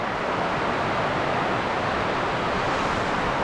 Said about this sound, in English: that waterfall down there is pretty nice